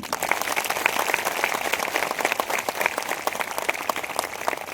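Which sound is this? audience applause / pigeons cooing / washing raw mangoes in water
audience applause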